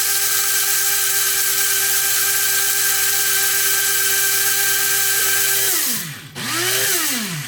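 An electric coffee grinder steadily grinds coffee beans with a loud, sustained whir, then the motor pitch sweeps down and rises again near the end as the beans finish grinding.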